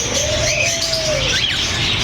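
Cockatiels call in a bird shop, ringing out over a steady hum of background noise, with a long drawn whistle-like note and a couple of brief chirps.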